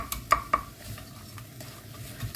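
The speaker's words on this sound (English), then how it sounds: "give it a little stir to get going" Chopped sausages are stirred in a cooking pan, with a few sharp scrapes and clinks of the utensil early on over a soft, steady background sizzle, close by and with no talk.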